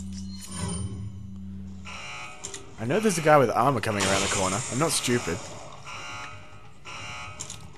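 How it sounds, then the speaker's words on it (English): A security control panel alarm in Resident Evil 4 buzzes with a steady, droning tone for the first couple of seconds, then carries on faintly beneath a man's close, animated talk. "That fucking alarm is starting to drive me nuts."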